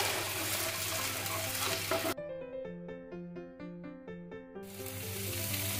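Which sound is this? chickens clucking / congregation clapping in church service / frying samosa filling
frying samosa filling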